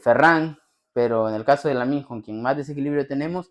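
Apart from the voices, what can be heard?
No distinct noise like a dog, phone or traffic.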